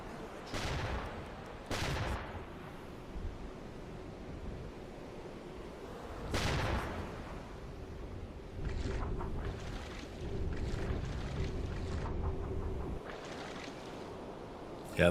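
Naval guns firing in a World War II naval strategy game set in the Mediterranean and Arctic in late 1941: several loud booming blasts at irregular intervals with rumbling tails, over a steady low background.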